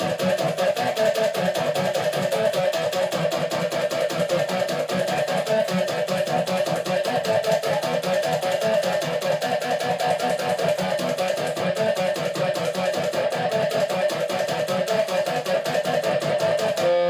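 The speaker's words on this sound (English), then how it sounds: "with that toggle effect and the Digitech whammy on, it will sound something like this." Electric guitar riff played through a Digitech Whammy pedal with a rapid toggle-switch kill effect, bottom pickup fully up, loud and continuous with a fast stuttering on-off pulse and no talk.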